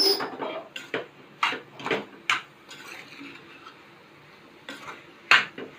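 Salted soya chunks for a spicy masala being stirred and sautéed in a pan: a run of sharp, irregular spatula clinks and scrapes against metal, close by over a faint background sizzle, with no talking.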